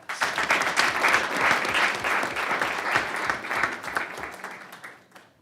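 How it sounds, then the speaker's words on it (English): Audience applause at a school governing board meeting, dense clapping from a room of people that holds steady for several seconds and then tapers off. "So once again, let's give them a round of applause."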